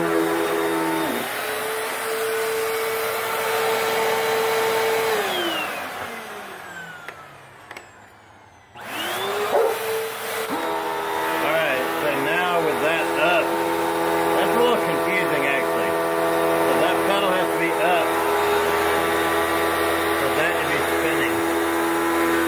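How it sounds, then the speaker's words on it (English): A refurbished Hoover vacuum cleaner runs with a loud steady whine, winds down to near silence, then starts again and keeps running with shifting pitch as it is moved about. "So the vacuum does work good. It's got a lot of suction."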